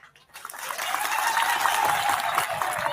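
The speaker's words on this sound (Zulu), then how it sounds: "Ngicela simamukele ngelikhulu ihlombe kanye nesekala lakhe ngokungangabazi." A crowd gives loud, sustained applause to welcome a Zulu king at a gathering, a dense, continuous wash of many hands clapping that swells in after a brief quiet start and holds steady.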